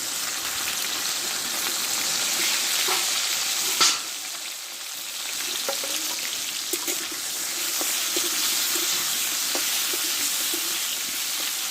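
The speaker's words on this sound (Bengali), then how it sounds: "তেলে আমি এক চিনটে হলুদ দিয়ে দেবো দিয়ে ভেন্ডিগুলো আমি ভেজে নেবো" Okra fries in hot oil with a pinch of turmeric, giving a steady crackling sizzle with occasional stirring clicks and utensil knocks close by.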